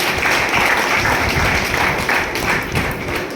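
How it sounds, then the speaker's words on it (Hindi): A room audience claps steadily in honour of a woman at a business community gathering, dense continuous applause with a murmur of voices beneath it. "एक बार मैडम के लिए 2 ताली।"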